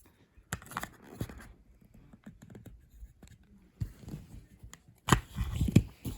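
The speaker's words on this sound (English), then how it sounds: "I think we could get one more cut with sewing scissors" Close sewing scissors snipping and crunching through an iPhone 4s in irregular bursts, with scraping and rustling between cuts, louder toward the end.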